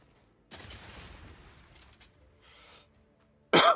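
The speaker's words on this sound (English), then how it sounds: "Look how massive the explosion is" An explosive shot detonates in Path of Exile, a sudden loud burst near the end after softer game effects and crackles.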